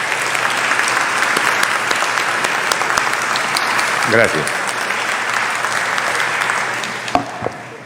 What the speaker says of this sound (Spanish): le pido que nos den un fuerte aplauso